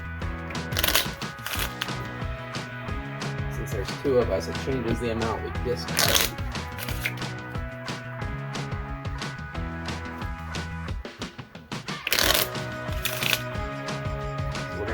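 Cards from the Minecraft Explorers board game are shuffled by hand, with sharp riffling bursts near the start, middle and end among softer handling sounds, while a person talks throughout.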